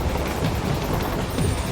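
Train in motion in the video game Metal Gear Rising: Revengeance, a dense continuous rumble with faint rhythmic rattling, loud and close.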